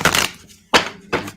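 A deck of cards shuffled right beside the microphone: three crisp, papery bursts, the first longest, then two shorter riffles with brief quiet gaps between them, loud and close, with no voices.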